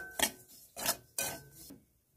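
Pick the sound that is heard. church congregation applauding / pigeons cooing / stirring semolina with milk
stirring semolina with milk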